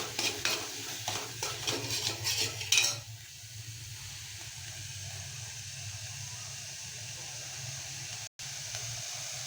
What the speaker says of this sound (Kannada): ಇವಾಗ ಅದನ್ನು ಒಂದು 2 ನಿಮಿಷ ಫ್ರೈ ಮಾಡ್ಕೊಳ್ಳೋಣ.